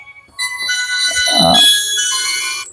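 A phone ringtone chimes for about two seconds, a bright electronic melody with a low thump partway through, heard alone at moderate loudness.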